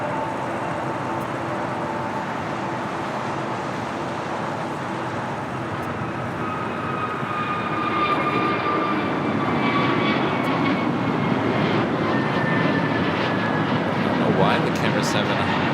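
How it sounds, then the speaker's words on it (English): An American Airlines Airbus A321neo takes off at LAX, its engines roaring steadily and swelling louder as it climbs, with a voice talking over the noise. "Next takeoff. American Airlines Flight 1240 heading to Reagan National in"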